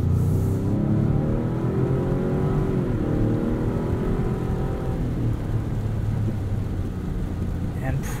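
A 2022 Ford Expedition Platinum accelerates from inside the cabin, its engine drone climbing steadily in pitch before a smooth, barely noticeable gear change in the 10-speed automatic, then a continued even hum.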